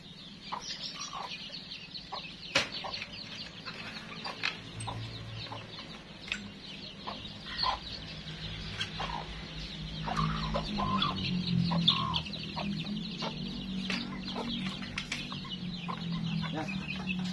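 Black Japanese bantam chickens, hatched from native hens, cluck and chatter steadily at close range on a farm, with scattered sharp calls over a low background hum and no clear talk.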